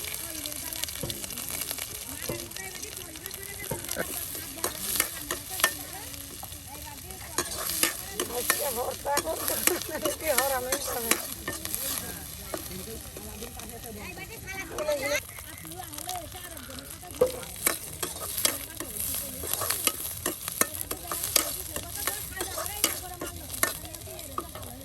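Onion and garlic frying in a pan while being stirred, a steady sizzle with scraping clatter from a utensil, under intermittent talk in an outdoor Bangladeshi cooking setting.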